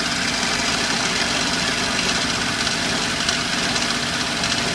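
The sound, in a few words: idling engine with belt noise and rattle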